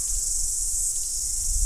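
Cicadas buzz in a steady, high, continuous drone that holds unchanged at a constant level, with no voices.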